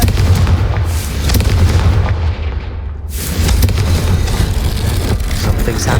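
A Confringo blasting spell going off in a Hogwarts action game, heavy booming explosions with rumbling low-end impacts, a brief lull in the middle and then more blasts, loud and close with no speech.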